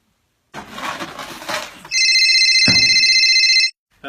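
A telephone rings during a call home, a loud, close electronic ring tone lasting nearly two seconds after a short burst of rustling handling noise, with no talking.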